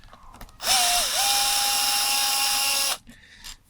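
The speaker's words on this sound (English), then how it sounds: "we've got some screws here, so let's whack them off." A power driver spins screws out of the housing of a Makita JR3050T reciprocating saw. One loud, continuous whirring burst lasts about two seconds, with the pitch dipping briefly as the screw breaks loose, and quiet shop noise comes before and after.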